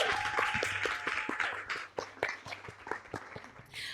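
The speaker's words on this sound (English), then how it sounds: "Can we give her a round of applause, Ms. Linda Garcia?" Audience applause for a woman introduced on a panel at SXSW, moderate clapping from a modest crowd that carries on steadily for about four seconds with some scattered sharper claps.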